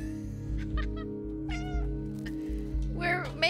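Cat meowing in the video game Stray: several short meows, then a longer drawn-out one near the end, heard over a steady humming game soundtrack with rhythmic low beats.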